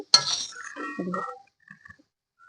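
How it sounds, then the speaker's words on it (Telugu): Fried leaves are scooped from a pan onto a plate, giving a sharp metallic clink followed by a short scrape and rustle, then near silence with a few faint taps. "ఇదిగోండి మంచిగా వేగింది ఇప్పుడు తీసేసుకుందాం ప్లేట్లోకి ఇలా వేసుకోవాలండి"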